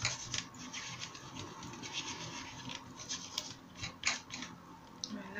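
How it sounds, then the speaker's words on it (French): Close, steady scratchy rubbing of a rubber craft stamp being cleaned during card making, fairly faint and continuous with a few sharper scrapes. "je viens nettoyer forcément mon tampon"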